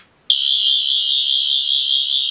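A Doctor Who Fourteenth Doctor toy sonic screwdriver sound effect: a sudden, steady high-pitched electronic tone that switches on and holds continuously, loud and close, with no voices.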